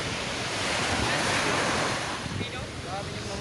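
Ocean waves wash steadily onto a seaside shore, a continuous broadband surf roar with wind buffeting the microphone, loud and unbroken throughout with no talk.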